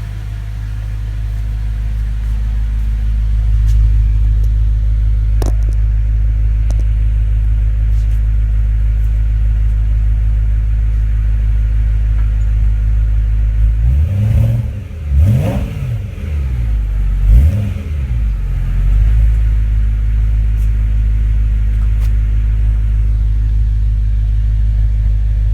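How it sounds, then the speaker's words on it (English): A 2011 BMW E90 M3 with M Performance exhaust idles in a garage with a deep steady rumble, then revs in a couple of quick bursts midway before settling back to idle. "I will do a couple revs for you with the phone outside."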